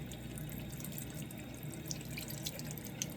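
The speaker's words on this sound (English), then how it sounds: "Okay, so we're going to wet our brushes first." Tap water runs steadily into a sink to wet makeup brushes, a continuous close splashing hiss with a few faint drips and no talking.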